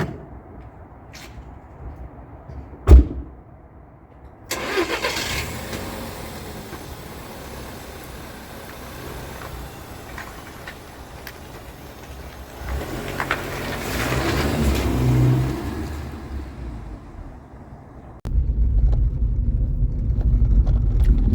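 A 2011 SEAT Ibiza Cupra with 145,000 miles starts up with a sharp burst, then idles and pulls away, the engine swelling louder mid-drive before settling into a steady cabin rumble.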